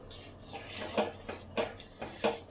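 A pot of milk with sugar just added being stirred over medium heat for Bengali payesh, a few scraping metal clinks of the spoon against the pot at irregular intervals, close and fairly soft.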